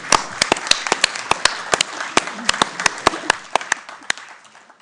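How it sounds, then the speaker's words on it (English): Applause at a party spring conference as a delegate is welcomed in, a room of clapping hands with loud, crisp close claps punctuating the steady patter, fading out at the end. "Rising applause for Tina."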